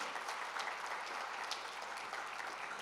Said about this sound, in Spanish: Sí, dale el mejor aplauso a él.